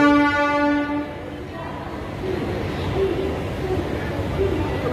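A MEMU passenger train pulls out on the Ranchi to Asansol route. A horn sounds briefly at the start, then a steady rolling rumble builds, with a voice talking over it.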